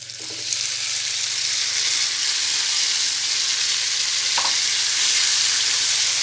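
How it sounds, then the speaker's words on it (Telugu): Ground raw ivy gourd chutney frying in a tempering of seeds, garlic, dried red chillies and curry leaves: a loud, steady sizzle with one or two brief clinks of a utensil. "తాలింపు మగ్గిన తర్వాత ముందుగా నూరుకున్న పచ్చడి వేసుకోవాలి."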